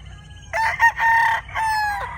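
A rooster crows loudly and close on a gamefowl farm, one long rising-and-falling call broken into segments, over a low background rumble.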